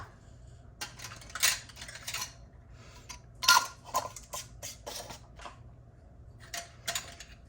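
Metal lids are screwed onto glass canning jars packed with raw Kalua pork, giving a series of close scraping clicks and light clinks in irregular bursts against a quiet hum.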